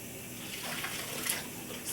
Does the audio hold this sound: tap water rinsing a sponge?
yes